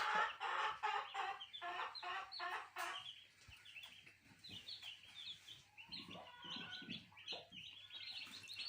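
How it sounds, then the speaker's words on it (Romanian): Newly hatched chicks cheep in rapid, high, overlapping peeps on a farm, close and steady throughout, with a few clucking adult chickens nearby. "Vreau să vă arăt puii mei care au ieșit."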